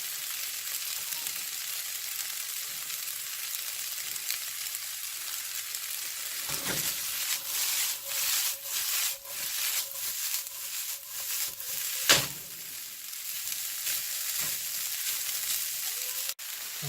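Scallions frying with pork fried rice in a hot pan, a steady close sizzle with repeated stirring scrapes and a sharp clatter near the end, almost no talk.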